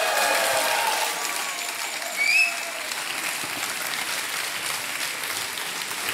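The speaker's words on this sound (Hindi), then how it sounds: "जोरदार तालियां बज जाए इनके लिए।" A studio audience on a Hindi TV quiz show claps loudly in a steady, dense burst that fills the whole stretch. The applause eases a little but continues to the end, with no voices over it.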